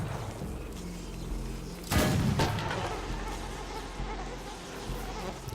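A single gunshot in the game Let It Die, one punchy crack with a brief tail, heard over a constant buzzing, insect-like background drone.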